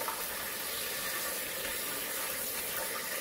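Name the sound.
rinsing chickpeas with running water in the sink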